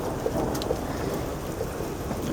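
Steady rain hisses and patters outdoors during a thunderstorm, a dense wash of noise with faint thunder rumbling underneath and no voices.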